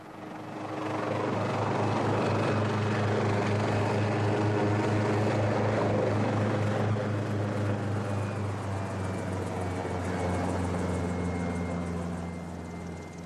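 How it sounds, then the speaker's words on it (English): A helicopter's rotor thrums steadily and loudly throughout over the Antarctic in difficult weather, its engine drone fading in at the start and easing slightly at the end. "the helicopter delivers me to a barren hill."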